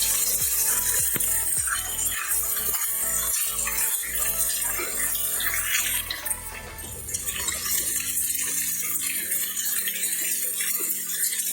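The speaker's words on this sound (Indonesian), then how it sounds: "Kita panaskan minyak. Kita masukkan ikannya." Salted fish dropped into hot oil sizzles and crackles in a dense, steady hiss, with occasional clinks of a utensil against the pan.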